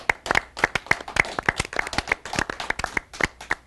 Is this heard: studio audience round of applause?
yes